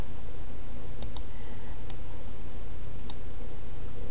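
Computer keys are pressed a few times on a keyboard, four sharp isolated clicks spread unevenly over a quiet hum, close and crisp.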